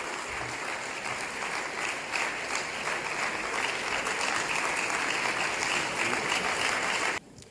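Sustained audience applause fills a hall as Goodluck Jonathan is welcomed at a democracy dialogue event, dense and even for about seven seconds before stopping abruptly.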